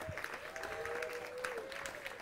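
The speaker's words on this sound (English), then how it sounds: "everybody please clap for Yala." Audience applause at an evening presentation on coral restoration, steady clapping filling the room for the whole stretch, with a few faint voices and cheers underneath.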